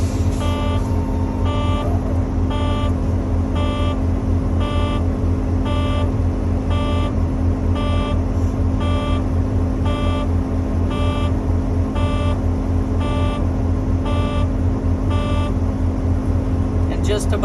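A truck's low air pressure warning buzzer, triggered just above 60 psi, pulses in a steady, even rhythm about once every half second, over a constant low engine idle.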